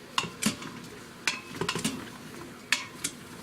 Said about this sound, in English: Give everything a good little stir.